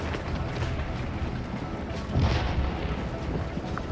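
Heavy Civil War battle fire in Scourge of War: Gettysburg: a dense, continuous rumble of cannon and musketry that swells louder partway through, with no talk.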